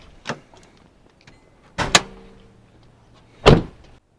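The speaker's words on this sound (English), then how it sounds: "So let's pop the 80 hood here." Hood of an 80 series Land Cruiser being opened: three sharp metallic clunks and clicks, the latch release and hood movement, spaced over a few seconds in a quiet garage.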